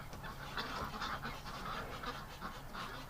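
Several brown ducks in winter giving repeated quacks and honking calls, a busy overlapping chorus at moderate distance.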